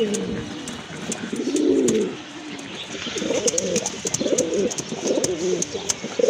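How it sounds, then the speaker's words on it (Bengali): A pair of pigeons coo close by in repeated soft, rolling phrases, with faint background chatter and clicks. "এই যে দেখেন কবুতরগুলো খুবই সুন্দর, চমৎকার এক জোড়া কবুতর"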